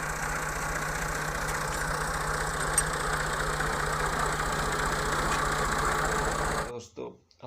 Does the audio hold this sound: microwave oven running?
no